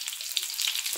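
Crushed pepper sautés in a pan, a brief, soft, hissing sizzle with faint crackles, no voices.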